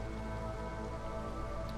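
Steady storm rain in the video game Against the Storm, a soft, even hiss of falling drops over a low droning ambience, constant and unbroken.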